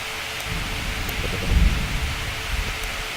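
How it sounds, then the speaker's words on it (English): A thunderstorm: a steady hiss of rain is broken midway by a low, rumbling roll of thunder that swells briefly, then settles back into the continuous downpour. "Wow, the storm must have just arrived in the area. There's still more thunder."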